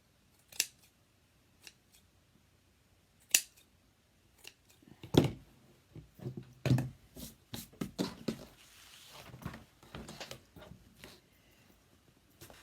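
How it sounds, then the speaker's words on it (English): Scissors snip through felt while a flower center is trimmed even, first in sparse single cuts, then in quicker runs of close crisp snips. "take your scissors and go along and straighten it up"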